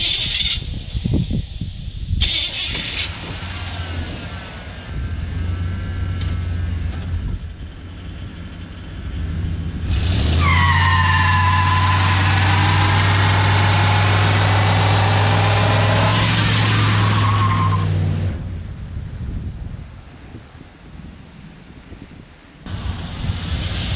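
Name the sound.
old truck driven hard, engine revving and tires skidding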